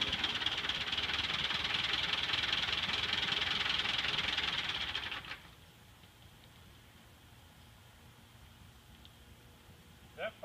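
A car engine with a faulty exhaust manifold or manifold gasket runs with a steady hissing, rattling roar for about five seconds, then drops to a quieter, low idle.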